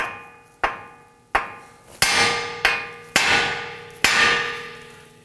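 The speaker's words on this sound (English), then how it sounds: "Now I'm going to use my hammer and I'm going to whack the end here of our knuckle" Seven sharp metallic hammer strikes ring out on the steering knuckle of a 2018-2024 Toyota Camry to release the outer tie rod, at irregular intervals, each blow leaving a bright decaying ring, with no voices.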